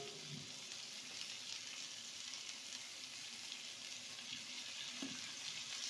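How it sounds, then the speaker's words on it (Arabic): Kofta meatballs sizzle on a bed of sliced onions in a pan, a soft steady frying hiss throughout with a faint clink of a utensil, no talking. "من بعد ما فرشت البصله غنبقى نلوح عليها دابا هاد الكفته هادي"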